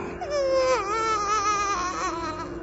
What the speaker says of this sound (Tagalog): Isang baby na umiiyak ang naririnig niya sa kabilang kwarto.